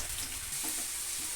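Carrot pieces fry in a pan for Andhra-style carrot chutney, making a steady close sizzle with a few soft scraping stirs toward the middle.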